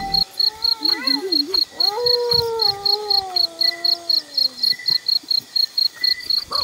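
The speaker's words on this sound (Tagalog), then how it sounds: "sundan natin yung umaululong na aso" A dog howls at night in a rural barangay near a creek, long wavering howls rising and falling, moderately distant, over a steady chorus of chirping crickets.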